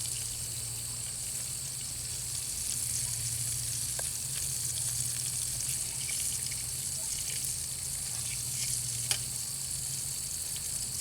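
Bass fillets fry in hot lard over a small bow drill fire, a steady bright crackling sizzle that holds evenly throughout, with a few sharp pops and ticks close by and no talking.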